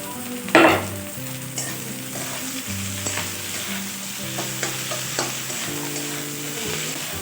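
Boiled drumstick leaves go into a pan of garlic and green chilli, with a sharp burst of sizzle as they land, then a continuous frying hiss with occasional stirring clatter.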